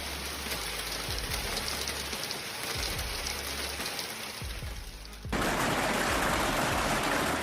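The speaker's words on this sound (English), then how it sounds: "cars parked outdoors became targets for a barrage of ice falling relentlessly" Severe hail in a Houston thunderstorm pounds cars parked outdoors as a dense, continuous roar of ice striking metal and ground. The barrage grows suddenly louder and harsher near the end, with no voices.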